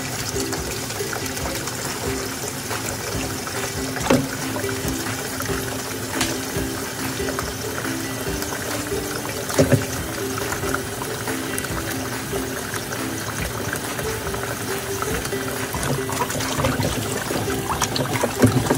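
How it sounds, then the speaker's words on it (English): Beef neck bones washed in water and lemon juice for biryani: steady running and sloshing water with small splashes and knocks, continuing evenly for nearly twenty seconds with no talk. "Washing the beef neck bone"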